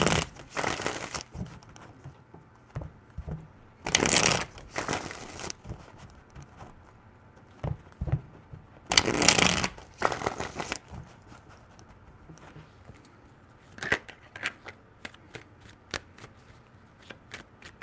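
Tarot cards are shuffled in repeated bursts of riffling and papery slapping, with louder riffles separated by quieter handling and soft rustles, close to the microphone.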